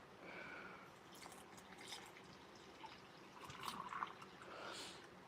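Water pours into a plastic pouch of MRE grape drink mix, a soft, faint trickling and dribbling that rises and falls over a few seconds.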